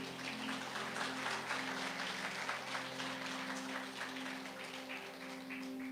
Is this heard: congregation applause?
yes